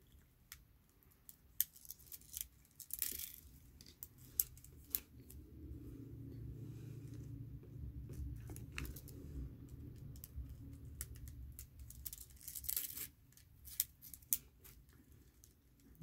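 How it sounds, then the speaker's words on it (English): Scissors snip up shrimp pieces for a kandi mushroom in a quiet room, with sharp, scattered cuts and small taps coming in short bursts over a faint low hum. "Then you have to cut up your shrimp."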